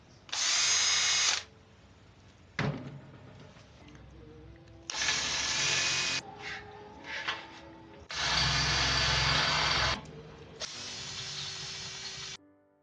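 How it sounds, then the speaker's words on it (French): An electric drill boring holes in stainless steel brewing tanks, in several loud bursts of high whining drilling separated by short pauses and small clanks, with no talking. "Première étape, percer les cuves."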